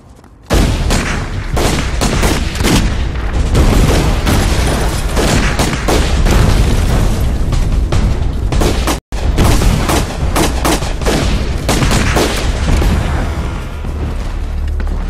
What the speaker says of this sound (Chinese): 炮声打得如此的激烈